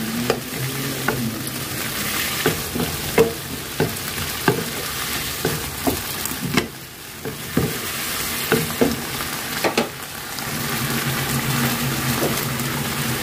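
Squid and paprika stir-fried with sauce in a pan sizzle steadily up close, broken by frequent scraping and clacking of a utensil in an uneven rhythm, with no talk.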